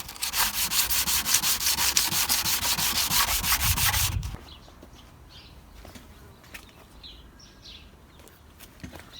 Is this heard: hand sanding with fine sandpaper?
yes